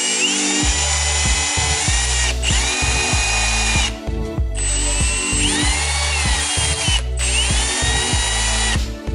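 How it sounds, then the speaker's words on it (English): A power drill whines at high speed, with bursts separated by short pauses as it bores holes for BMW E92 335xi carbon parts; loud and close, no talking. "so let's drill her out."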